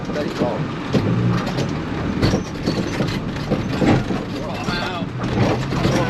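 A Land Rover Freelander rolling down a bank in first gear during a round of the AWDC Freelander trophy at Minehead, a steady low engine drone with rattles and bumps, while people talk over it.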